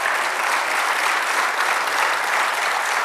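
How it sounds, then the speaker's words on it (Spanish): Audience applause at a Spanish-language church sermon, steady, dense clapping from a congregation that fills the space evenly and continuously, with no voices on top. "Denle un aplauso al Señor."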